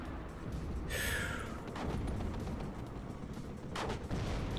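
Gunfire and artillery booms in a war strategy video game, a dense rumbling barrage with sharper bursts standing out, continuous and fairly loud.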